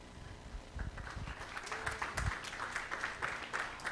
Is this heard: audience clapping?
yes